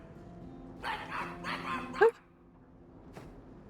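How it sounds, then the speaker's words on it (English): A dog barks in a few short bursts, then gives one sharp higher yelp, with a steady background hum underneath, in the video game Dragon Age II. "Why are you guys barking?"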